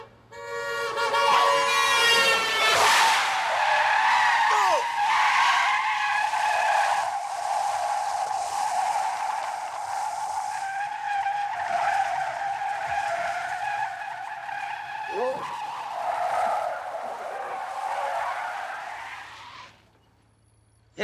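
A car spins in a film scene, tires skidding in a long, loud squeal that rises sharply, holds for many seconds with wavering pitch, then fades into a short silence before the scene cuts.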